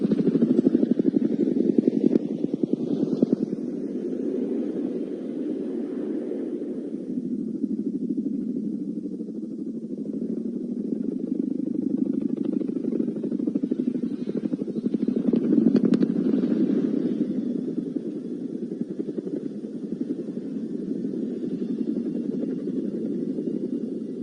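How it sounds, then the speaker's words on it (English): A Boeing Chinook twin-rotor helicopter flies at the Cosford Airshow, its deep, heavy rotor drone sustained and fairly loud throughout, swelling slightly at times. "It is well known that the Chinook makes an incredible sound while in flight"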